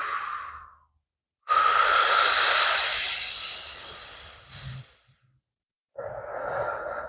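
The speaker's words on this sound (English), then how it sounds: "I'm going to stick my lips together and inhale." Deep inhale drawn slowly through pursed lips during a senior-friendly morning warmup routine, a long steady airy hiss lasting about three seconds, preceded by a brief breath and followed by another, close and alone.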